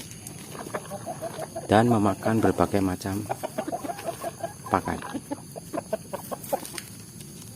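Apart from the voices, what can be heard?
free-range village chickens clucking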